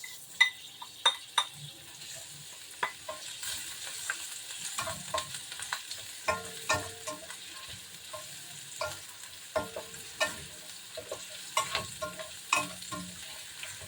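Carrots stirred and frying in a pan with garlic and onion for Chinese-style pancit sotanghon, with steady sizzling and repeated sharp scrapes and clinks of a utensil against the pan, close and without talk.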